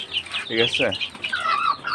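Young incubator-hatched chickens clucking and squawking in a scuffle, with a few sharp, close calls clustered in the middle; a person speaks briefly.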